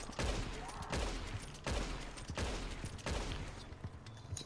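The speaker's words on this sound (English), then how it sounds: "Are you getting shot at or are you shooting?" Gunfire rings out in Red Dead Redemption Online as a series of rapid, loud volleys repeats roughly every second, each burst cracking sharply and trailing off before the next.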